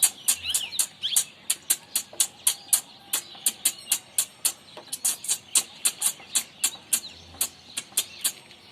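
A man imitates a small bird, producing a fast series of sharp, bright chirps and tweets in an irregular rhythm, close and clear with no other sounds.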